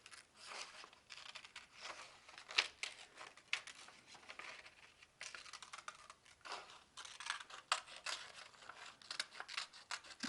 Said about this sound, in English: I'll use my scissors to cut it out